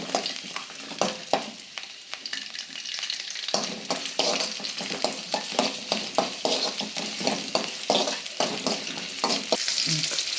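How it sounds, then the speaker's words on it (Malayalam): Small shallots frying in a pan while being stirred, a constant sizzle broken by frequent rhythmic spatula scrapes and knocks, close up and busy throughout. "ഒരു 2-3-4 ചെറിയ ഉള്ളി. നല്ല ഇളക്കി കൊടുക്കണം."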